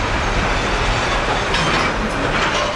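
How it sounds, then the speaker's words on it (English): A tourist train rolls past close by, a loud, continuous rumble of railcars on the track with faint rhythmic wheel clatter and no voices. "This is the tourist train."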